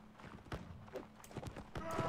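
Horse hooves in the Caribbean! video game, several soft clopping footfalls at an uneven pace, faint and close-sounding, with other light game noise around them.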